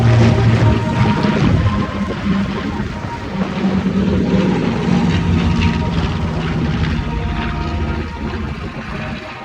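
A P-25 Firefly propeller aircraft roars past at an airshow, its loud, sustained engine drone filling the whole stretch with steady rumble and slight swells in loudness.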